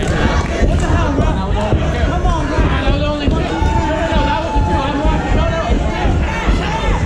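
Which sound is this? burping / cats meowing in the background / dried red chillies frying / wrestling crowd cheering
wrestling crowd cheering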